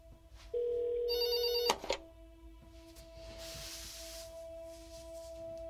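A telephone rings in the video game There Is No Game: a loud electronic ring tone holds for about a second, then a brighter trilling bell, and quieter hiss and a soft tone continue afterward.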